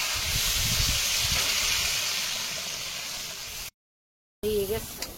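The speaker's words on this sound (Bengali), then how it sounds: "এবারে জল দিয়ে দেবো।" Water hisses and rushes steadily into a hot cooking pan, loud and close, then fades; after a brief gap a short hissing sizzle returns with a faint voice.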